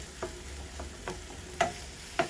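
Vegetable fried rice with salt being stirred in a pan: a spatula scrapes and taps the pan in four or five separate strokes about half a second apart, over a low, steady sizzle, with the last strokes the sharpest.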